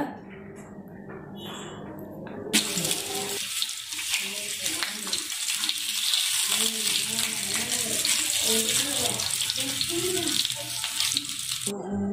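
Paari fish fries in hot oil, the sizzle erupting loudly as it is flipped after a quieter opening, then holding as a strong, continuous crackling hiss.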